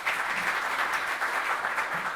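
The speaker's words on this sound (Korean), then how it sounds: "박수 한번 쳐주시죠" An audience at a security policy seminar applauds steadily, a dense, even clapping that fills the room throughout the short stretch without any break.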